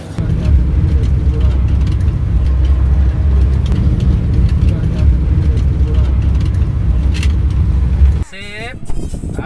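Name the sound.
car being test driven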